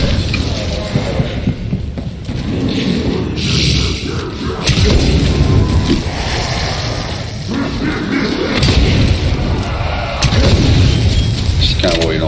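A bomb goes off in the video game Game Show: heavy booming and thudding crashes roll through a dense, continuous wash of game noise with no clear break.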